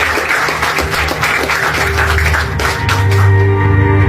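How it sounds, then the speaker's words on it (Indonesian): An audience bursts into loud, sustained applause, dense clapping filling the room at close range, with a low musical tone rising underneath toward the end. "Aplaus dulu dong untuk tukang jaket."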